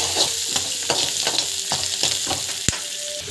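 Tamil-style sautéing in a pan with asafoetida and roasted chana dal for lemon rice, heard as a continuous close sizzle with rhythmic spatula scrapes and one sharp clack near the end, free of speech.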